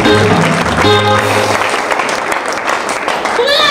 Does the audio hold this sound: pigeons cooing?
no